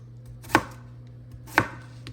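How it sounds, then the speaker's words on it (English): A knife chops through stacked apple slices on a cutting board in two sharp, separate strikes about a second apart, close and clear in a quiet kitchen. "I'm gonna take these and kind of just stack that in half, then cut it in half again"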